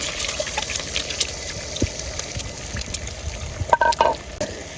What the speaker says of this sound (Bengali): এখন ডিমগুলো দিয়ে দিব সবগুলো ডিম একসাথে বেজে নিব